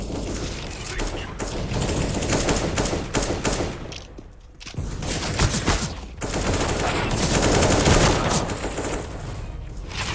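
M4A4 rifles and other guns firing in a CS:GO deathmatch, loud close bursts of rapid fire rattling almost nonstop, broken by two short pauses, with no voices.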